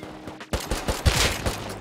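Rapid gunfire from the survival game Rust, a burst of several loud, close shots in quick succession over about a second and a half, with no talk.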